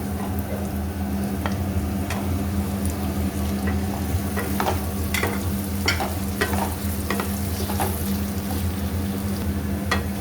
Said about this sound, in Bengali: ভালো করে নাড়াচাড়া করে নিলাম, সাথে পনিরগুলো ঢেলে দিলাম